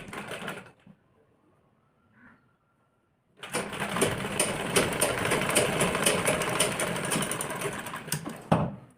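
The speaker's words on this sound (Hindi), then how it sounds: "इसके ऊपर इसको रख के इसके किनारे किनारे पे सिलाई मार लेंगे" An electric sewing machine stitches along the edge of blouse fabric in a long, steady, loud mechanical whir of about five seconds, after a brief start and a quiet pause.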